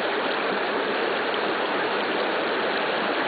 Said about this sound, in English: Now the whole seep's not covered, it's still bubbling all around it.